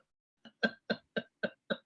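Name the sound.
imitation of a whooping cough whoop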